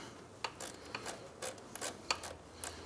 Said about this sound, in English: Put that back on. Using our 12mm wrench.